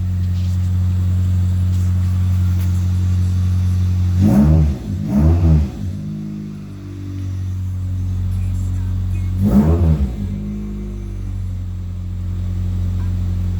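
An idling 2003 Pontiac Vibe GT's 2ZZ-GE engine with aftermarket exhaust and cold air intake, deep exhaust burble, is revved hard twice in quick succession, then once more after a pause, settling back to idle.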